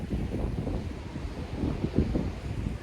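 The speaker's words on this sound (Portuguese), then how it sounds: "Hoje o tempo tá frio, tá ventando bastante" Steady wind buffeting the microphone outdoors at a beach on a cold, drizzly day, with a low rumbling roar and faint surf-like wash underneath, no voices.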